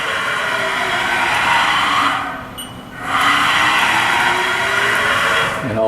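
Axes of a Haas VF5D/40 vertical machining center traverse with a loud, steady mechanical whir and rising, falling motor tones, easing briefly midway before resuming at full strength.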